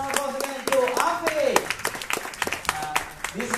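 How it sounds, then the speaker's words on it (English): An audience at a FameLab 2017 science-talk heat in Kuala Lumpur claps in a steady round of applause, with a voice calling out over the clapping. "Big round of applause again to Abi."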